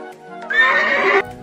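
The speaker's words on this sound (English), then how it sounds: "Racing horse." A racing horse lets out a single loud, close whinny lasting under a second, shaky and bright, with quiet moments before and after.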